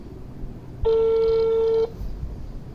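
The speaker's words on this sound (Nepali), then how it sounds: "फोन लाग्यो। यो चाहिँ मेरो दिदीको नम्बर हो।" A phone call connects to a number, giving a single steady electronic ring tone lasting about a second, loud and close over quiet room noise.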